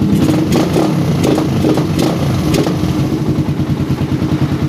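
A motorcycle engine fitted with a PE PWK carburetor revs up close and loud, its throttle blips rising and falling in quick bursts over a rough, clattering idle.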